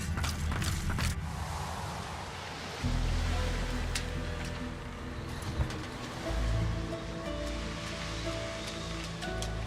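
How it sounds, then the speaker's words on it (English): Ocean waves roll and wash around a ship at sea in Divinity: Original Sin II, a steady broadband surge that swells and recedes under low creaking ship mechanisms and faint ambient tones. "Feel the rolling of the waves."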